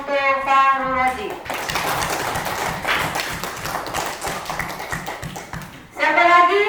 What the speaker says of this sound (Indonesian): Tepuk tangan untuk Pak Rudi.